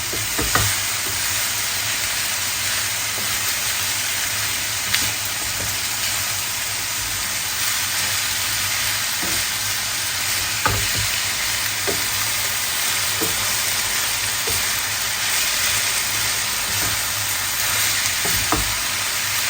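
Potatoes frying hard over high heat, a steady loud sizzle running throughout with occasional sharp crackles and pops, no talking.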